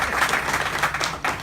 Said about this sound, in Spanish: Y quiero darle un aplauso.